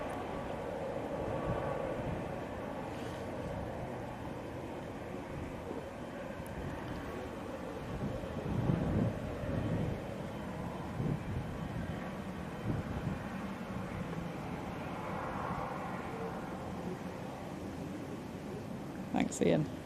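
An Emirates Airbus A380 jet at an airport, its engines making a steady, distant broadband roar that runs throughout under nearby voices talking.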